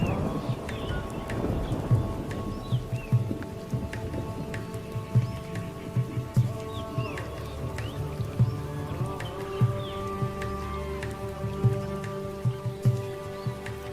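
Early monsoon rain showers fall in the Indian forest, soft scattered drops pattering steadily on surfaces, with light ambient wildlife sounds around.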